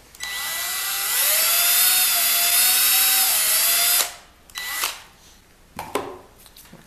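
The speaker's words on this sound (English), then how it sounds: "I can take this drill" A handheld power drill bores a hole in a part for an organ conductor model, a loud high whine running steadily for about four seconds, then stopping, followed by a few short bursts and taps.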